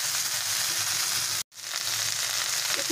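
Chopped bottle gourd frying in hot oil gives a loud, steady sizzle close up, broken by one abrupt moment of silence near the middle before the hiss resumes.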